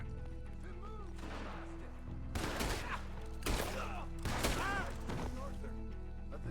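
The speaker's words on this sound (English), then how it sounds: "Can hardly see what I'm shooting at." Gunfire in a Red Dead Redemption 2 shootout: sharp, loud shots and short volleys from about two seconds on, over a steady tonal game soundtrack.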